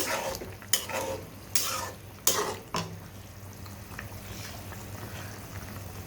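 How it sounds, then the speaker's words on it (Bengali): Salt being stirred into haleem meat in a pot, a few sharp spoon scrapes and knocks against the pot early on, then a quiet steady hiss with faint clinks. "লবণটাকে দিয়ে আমি তো ভালো করে মিক্স করে নিচ্ছি।"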